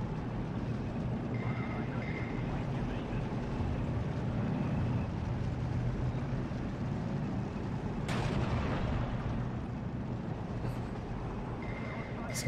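Tank cannon fire in Steel Division 2, with German Panthers engaging British Valentine tanks amid a dense, continuous battle rumble; one sharp, loud broadband blast stands out partway through over the steady low roar.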